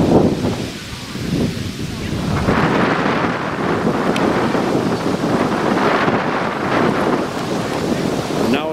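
Strong wind buffets the microphone in loud, rushing gusts at an outdoor youth baseball game, a continuous roar with surging swells.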